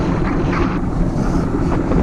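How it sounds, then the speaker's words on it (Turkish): Steady, roaring wind buffeting the microphone of a cyclist riding into a headwind, a dense continuous rush with no gaps and no voices. "Çok rüzgar var. Rüzgar önümde la."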